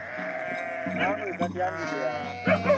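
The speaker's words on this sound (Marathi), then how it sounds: "इकडून आता मेंढ्याला पाकळणी करायचं आल्या ते" Sheep bleating repeatedly at a traditional Dhangar herders' festival where the flock is brought in for bathing, several overlapping wavering bleats close by with people talking in the background.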